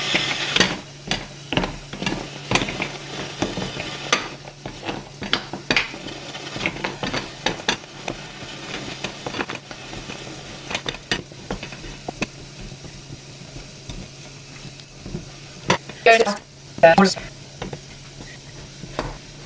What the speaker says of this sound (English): we need to stir the chocolate with your wooden spoon until the chocolate has melted